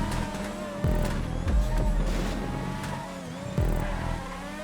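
Open-wheel race car engines in the racing game GTA Online drone and rev steadily, with pitch sweeping up and dropping sharply at gear changes and passes, a layered continuous roar at moderate loudness.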